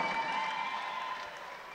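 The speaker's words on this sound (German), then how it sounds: "Ein großer Applaus für die beiden Kämpfer." Sustained applause from the audience at a free-fight event, a steady broadband wash of clapping for two fighters, fairly distant and even throughout.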